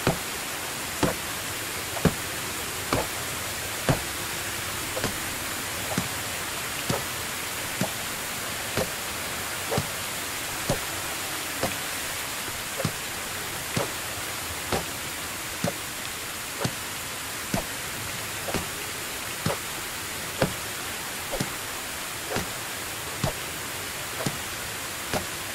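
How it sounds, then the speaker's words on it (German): Steady broadband rain hiss from the video game Medieval Dynasty, a constant wash of falling rain with regular soft ticking sounds spaced about a second apart running through it, with no talking. "Ich hasse Regen."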